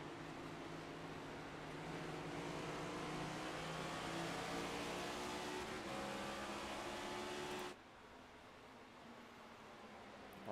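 Race cars circling an oval track in a USORA race drone loudly and steadily for about eight seconds, a dense engine roar that then drops abruptly to a quieter rumble.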